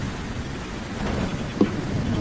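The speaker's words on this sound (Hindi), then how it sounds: "अचानक से जंगल में तेज बारिश शुरू हो जाती है।" Heavy rain pours through a forest at night in a cartoon scene, a dense steady hiss with low rumbling thunder beneath and one brief louder crack, no voices.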